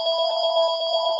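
A telephone rings steadily through a classroom lesson on chemistry, its bright electronic tone sustained and fairly loud with no pause across the short stretch, and no talking over it.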